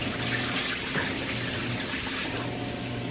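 Water runs steadily from a small reverse osmosis faucet on a kitchen counter, a continuous close hiss and splash with no talking.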